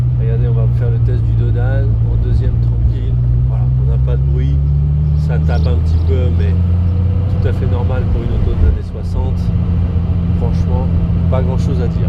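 Triumph TR250 engine driving in second gear, a steady low drone that rises slightly in pitch, with someone talking over it throughout.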